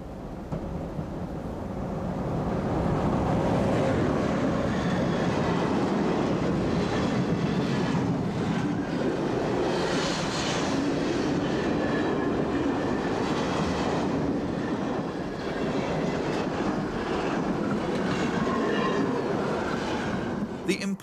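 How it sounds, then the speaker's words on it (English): Austrian freight train double-headed by an unrefurbished Class 1010 and a Class 1044 electric locomotive, rolling past as a loud, steady rumble with wheel clatter and wagon noise that builds after the first few seconds and carries on throughout. "This train is double-headed by an unrefurbished Class 1010 and a Class"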